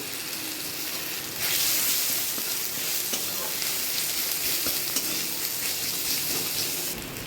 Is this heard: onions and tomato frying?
yes